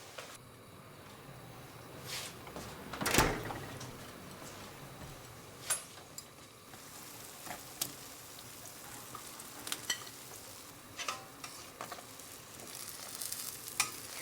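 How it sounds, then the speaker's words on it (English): Pizza dough sizzles and crackles in hot frying oil, a continuous bubbling hiss scattered with sharp pops and ticks, heard close up and with no voices. "Hear it sizzle?"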